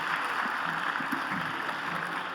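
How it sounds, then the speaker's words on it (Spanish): A conference audience applauds a panel speaker, a steady dense wash of clapping that holds evenly from start to finish. "Un gran aplauso para Gabriela."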